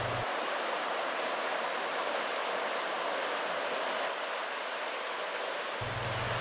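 Water pours steadily over a weir on the Marchfeld canal, a constant broad rushing roar with no pauses, close and even throughout.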